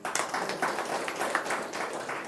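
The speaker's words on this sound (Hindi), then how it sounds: "इसलिए ताली बजाओ थोड़ा सा, उमंग सा।" Audience clapping in a classroom-style spiritual gathering in Kadegaon, Sangli, Maharashtra, a steady dense patter of many hands close by for a couple of seconds, no talk over it.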